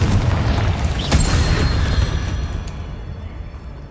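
A Confringo fire spell blast in Hogwarts Legacy, a loud booming explosion with a sharp crack near the start and a rumbling low tail that slowly fades, with no talk.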